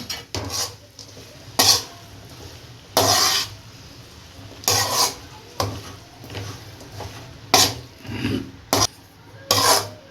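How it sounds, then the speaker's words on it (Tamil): Fried chicken, egg and sauce stirred together in a pan, a spatula scraping the metal in quick irregular strokes with short pauses between, close and clear with no talk. "இப்போ எல்லாத்தையும் சேர்த்து நல்லா மிக்ஸ் பண்ணி விட்டுருவோம்"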